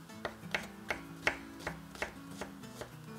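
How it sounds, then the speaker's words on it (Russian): A knife chops champignon mushrooms finely on a board, with about nine crisp, evenly spaced cuts that sound close and clear, with no one speaking. "Порезать их нужно мелко."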